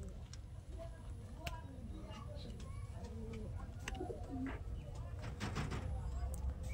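Pigeons coo over steady background noise at a bird sale of big, long-bodied Laldom and Kaldom breeds, soft repeated calls scattered throughout with a few sharp clicks.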